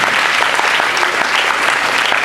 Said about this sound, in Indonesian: bagi tepukan kepada ibu bapak yang hadir pada hari ini